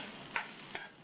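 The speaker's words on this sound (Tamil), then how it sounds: "தேங்காய் துருவலில் இருக்கிற ஈரப்பதம் போய் நல்லா வாசனை வர வரைக்கும் ஒரு 4-5 நிமிஷத்துக்கு மீடியம் ஃப்ளேமில் வச்சு வதக்கிக்கணும்" Grated coconut sautéed in a pan on a stove over medium flame gives a soft, steady sizzle with two brief scraping stirs.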